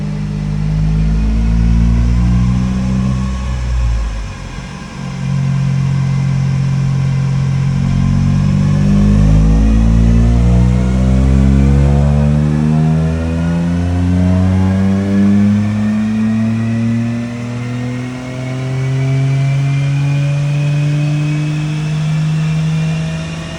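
Toyota GR Corolla three-cylinder engine with a tuning box and exhaust, revving on a dyno: a loud, close engine climbing repeatedly through the gears with rising pitch sweeps and brief drops at each shift.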